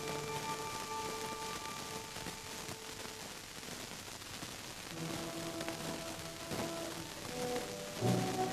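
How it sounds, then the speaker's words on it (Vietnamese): Rain falls steadily in a rural setting, a soft continuous patter heard under music, fairly faint and without speech. "Còn mưa đấy mà."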